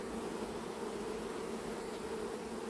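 A swarm of bees being recovered outdoors at Ozoir-la-Ferrière hums loudly and steadily, a dense continuous buzzing close by with no talk over it.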